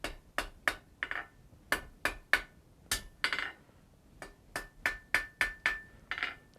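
Steady blacksmith hammer blows ring on hot iron at an anvil while drawing out the toe of a forge-welding scarf, with sharp metallic strikes in quick irregular clusters and brief pauses, close and loud with no talk.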